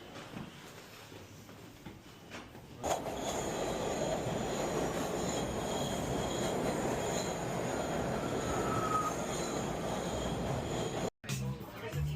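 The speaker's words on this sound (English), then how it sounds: "We have found the subway." A New York City subway train rumbles steadily through a station or tunnel, a loud continuous roar with a faint wheel squeal, briefly cutting out near the end.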